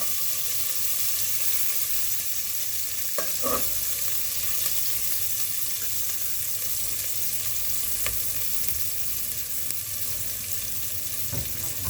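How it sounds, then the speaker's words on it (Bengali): Onions fry in a pan with cinnamon for Pakistani khichdi, a constant bright sizzle close up. Occasional clicks of stirring sound through it, with no talk. "পেঁয়াজটা কিছুটা বাদামি কালার হওয়া পর্যন্ত আমরা পেঁয়াজটাকে ভালো করে ভেজে নেব।"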